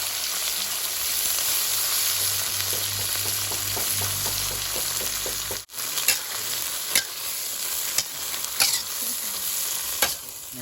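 Cicadas frying in sizzling oil with ginger leaves, oil crackling steadily in a pan, with occasional stirring clatters and scrapes close by.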